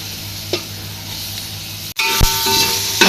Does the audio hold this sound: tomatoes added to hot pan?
yes